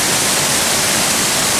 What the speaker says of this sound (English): Top, well, nearly the top of a waterfall